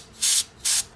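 Two short hissing bursts from a compressed air duster blowing dust out of computer RAM slots, close up and sharp, with a brief pause between them.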